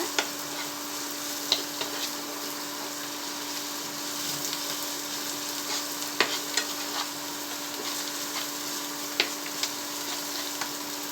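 Crushed ginger, garlic and curry leaves frying in hot oil, a steady sizzle broken by occasional soft scrapes of stirring, close and clear.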